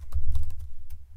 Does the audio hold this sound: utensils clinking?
no